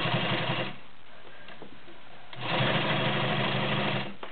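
A Model 618 B sewing machine stitches through five layers of woven upholstery with a rubber backing. It makes two close, steady runs of fast, even whirring, with a short quiet pause between them.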